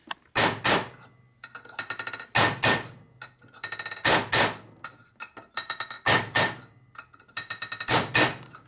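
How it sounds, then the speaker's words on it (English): Sharp metallic hammer blows on metal during a top-end rebuild of a 1983 Harley-Davidson FXRT 80ci Shovelhead, struck in quick clusters of several ringing hits separated by short pauses, loud and close with no talk. "You hit it with a hammer."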